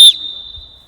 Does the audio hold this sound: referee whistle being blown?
yes